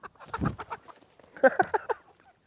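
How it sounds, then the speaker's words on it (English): Several hens clucking close by in short, uneven bursts, with a brief pause before another round of clucks. "You said that you've got other chickens as well."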